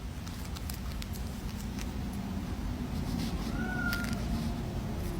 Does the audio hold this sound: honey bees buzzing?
no